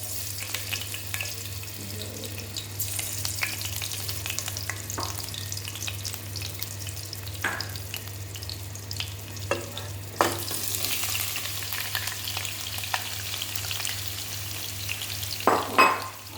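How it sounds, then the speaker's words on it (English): Paneer cubes frying in hot oil in a pan, a steady close sizzle with scattered pops and occasional clatter of stirring, one louder burst near the end. "the oil is hot. Now I'm going to put paneer"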